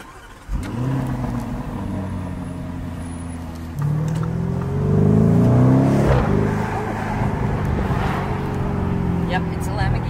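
A Lamborghini Urus SUV starts up and its engine revs close by, the note climbing and falling through a few surges before settling into a rumbling idle.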